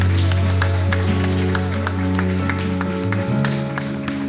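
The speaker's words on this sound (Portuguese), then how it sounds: "Você pode aplaudir o Senhor?" A church congregation claps in a steady rhythm over loud sustained music, with sharp regular claps cutting through the held tones.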